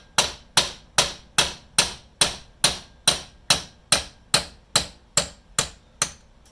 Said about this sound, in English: I have the distributor clamped onto the gear in my wooden soft jaws, and you just tap out your roll pin.